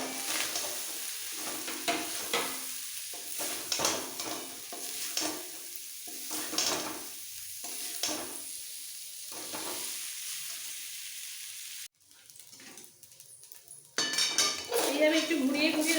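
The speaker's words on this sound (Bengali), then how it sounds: "রাইসগুলো এবার একসাথে ভেজে নিতে হবে" Rice is fried and stirred with spices in a pan for mango rice, with repeated scraping strokes of a metal spoon against the pan over a soft sizzle, then quieter cooking and a renewed hiss near the end.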